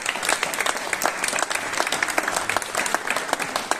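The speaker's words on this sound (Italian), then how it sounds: "figlio del grande Ernesto Panetta, per il quale vi chiedo di elevare un grande applauso." Audience applauding at an outdoor poetry evening in San Nicola di Ardore, Italy, with steady dense clapping from a crowd that keeps up throughout, fairly near and lively.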